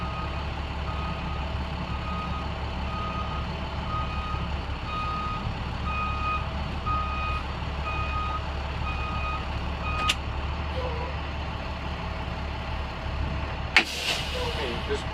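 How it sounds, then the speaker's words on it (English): A bus's reversing alarm beeps steadily at an even pace over a low idling engine rumble, then stops, followed by a brief clunk. "I'm going to have to go back and shut the alarm off"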